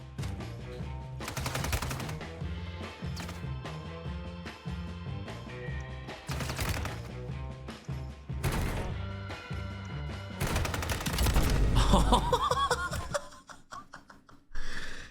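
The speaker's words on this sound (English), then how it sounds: "he gets shot in the back just as he exits the window" Rapid automatic gunfire from a Warzone match, in several loud bursts separated by brief pauses, mixed with game sound effects and a sharp crash near the end.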